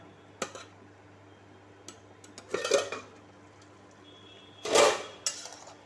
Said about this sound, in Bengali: ঢাকনা সরিয়ে রেখে নিচ্ছে একবার